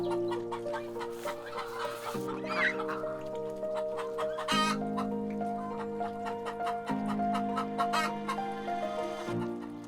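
Faverolles hen, a cold-hardy small-combed farm breed with feathered feet, clucks steadily through the whole stretch, the clucks sitting under loud, steady background music.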